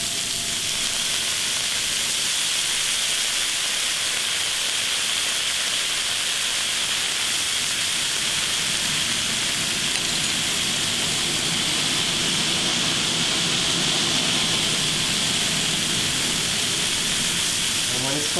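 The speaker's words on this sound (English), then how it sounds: "I'm going to deglaze the pan with white wine." White wine hits a hot pan of browned vegetables to deglaze it, giving a strong, steady hiss and sizzle that continues unbroken for the whole stretch.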